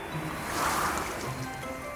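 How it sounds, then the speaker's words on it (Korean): A soft, steady swishing rustle like leaves stirring in a breeze, made by waving a hand fan, swelling briefly in the middle. "나뭇잎 소리는 부채로 만들어 넣었어요."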